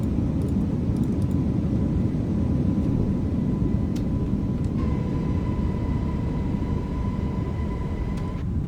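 Airbus A321neo jet engines roar in a flight simulator during takeoff from Heathrow, a loud, steady low rumble with a sustained tone and a few faint clicks.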